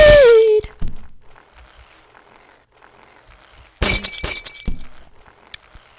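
Glass breaking in the video game Happy Wheels 3: a falling descending tone, then quiet scattered ticks, then a sharp loud shatter with tinkling shards that fade out.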